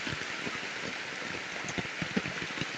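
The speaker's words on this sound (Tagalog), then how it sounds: "ang lakas po ng ulan" Heavy rain pours on a farm during stormy weather, a dense continuous hiss with scattered close droplet impacts and no talking.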